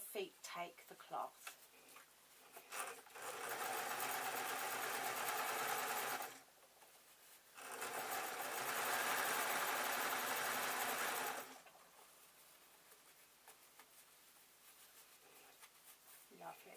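A sewing machine stitches fabric in two steady whirring runs of a few seconds each, with a short pause between them and quiet handling noise around them.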